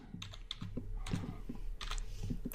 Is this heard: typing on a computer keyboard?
yes